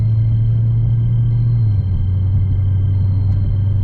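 Gen 2 Dodge Charger Redeye with rubbing rear end cruising slowly, a steady low engine drone and road rumble that dips slightly in pitch midway, continuous and close with no talking.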